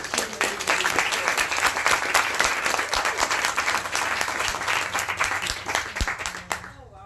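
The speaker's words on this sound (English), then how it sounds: "Can we give her another round of applause?" A room full of guests at a book launch applauds, with steady, dense clapping and a murmur of crowd voices underneath, fading out abruptly at the close.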